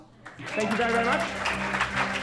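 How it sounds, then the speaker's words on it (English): An audience at the Chicago Magic Lounge applauds during a magic performance. Clapping swells in after a short pause and carries on fairly loud, with someone speaking over it. "Give her a round of applause."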